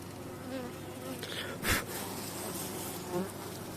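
Dense, steady buzzing of many honeybees close by at a two-storey hive, a continuous droning hum with a couple of brief louder bumps.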